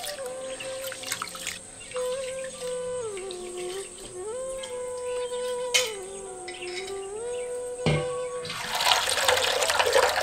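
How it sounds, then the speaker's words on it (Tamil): Rice and toor dal being rinsed with water for village-style sambar rice, a steady sloshing and pouring of water running throughout with a louder splash near the end, accompanied by a continuous tonal background. "அரிசியும் பருப்பையும் ஒரு முறைக்கு 2 முறையா தண்ணி ஊத்தி கழுவிட்டு"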